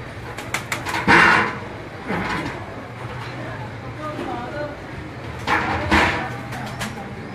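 Fancy-breed pigeons in a Gujranwala loft coo softly and flutter nearby, with a few sharp wing claps and scuffling, while someone talks intermittently close by.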